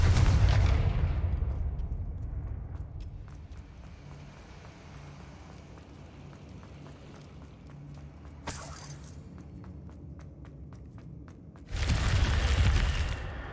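Fire-spell explosions from the Hogwarts Legacy video game: a heavy booming blast opens, a sharp burst follows later, and a final deep explosion closes, with a low rumbling pause between them.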